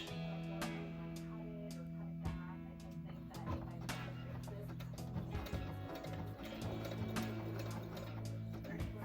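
A sewing machine stitching fabric for a dress runs steadily and close, with a rapid mechanical ticking and a humming motor over several seconds.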